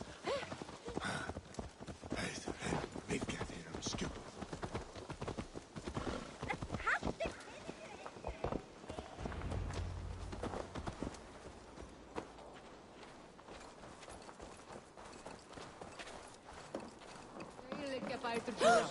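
Horse hooves clip-clop at a steady walking pace in Assassin's Creed Valhalla, close by, with voices talking at times over the hoofbeats.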